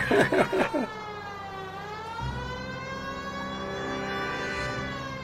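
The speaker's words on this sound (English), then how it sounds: "I'm running the siren" A police car siren in a video game, a loud steady electronic wail sweeping up and down over low engine rumble, briefly preceded by a few quick bursts.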